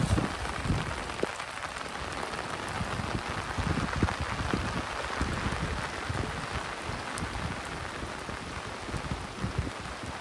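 Heavy rain pours steadily near Kharoshi, Pen during flooding, a dense, continuous hiss of drops hitting surfaces with light wind, no voices, unbroken from start to finish.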